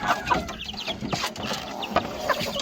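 Pet red junglefowl (labuyo) kept for breeding give soft, irregular clucks close by. The short calls come over a low, noisy background.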